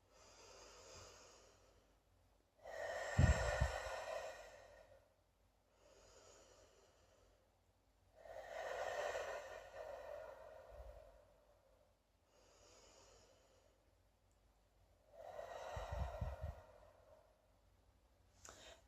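Three slow, deep breaths, each a long audible inhale followed by a softer exhale, with quiet pauses between them, close and unhurried.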